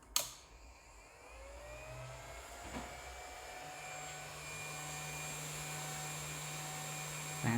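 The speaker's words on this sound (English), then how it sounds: "48-volt fan" A 48-volt cooling fan powered from a Meanwell RSP-1000-48 switching power supply spins up from a start and then whirs steadily and fairly loudly, with a soft click partway through and no talking.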